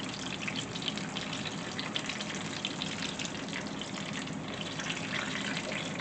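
Savory fried pies crackle and sizzle in a pan of hot oil, a steady dense hiss of frying that continues evenly at moderate loudness, with no talking.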